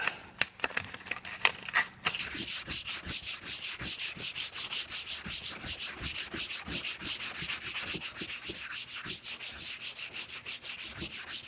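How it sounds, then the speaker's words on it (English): Hand sanding of body filler with 180 grit sandpaper, a close, even back-and-forth rasp repeating in a steady rhythm of strokes after a few brief handling scrapes at the start. "I'm going to grab a fresh sheet of 180 grit."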